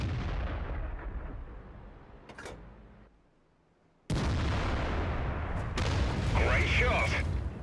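Artillery gun fire in the World of Tanks video game: loud booming blasts and rumble fill most of the stretch, broken by a brief near-silent gap before a sharp return, with a voice talking over the action.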